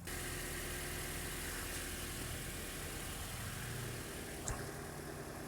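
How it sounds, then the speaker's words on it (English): Toyota Corolla (2014–2019) engine running at idle after starting, a steady low mechanical hum with faint vibration, heard close by and unaccompanied, with one brief higher blip near the end. "Now I'm gonna start the vehicle and check for leaks."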